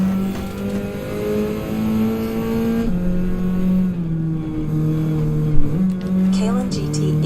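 Race car engine in Gran Turismo 7 droning steadily on an out lap, its tone rising and falling through gear changes, heard under loud ongoing talk.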